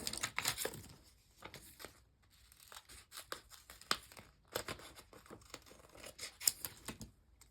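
Scissors snipping paper snowflakes, with crinkling and rustling of the paper between irregular sharp cuts, quiet and close.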